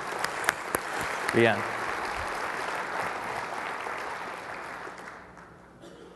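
Conference audience in a hall applauding, a broad steady clapping wash held for several seconds that fades near the end, with a brief spoken name at the start.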